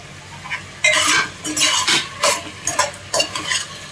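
Cucumber pieces dropped into a hot pan and stir-fried for a mixed dal curry: a loud close burst of sizzling followed by repeated scraping and clinking of a spoon against the pan in quick uneven strokes.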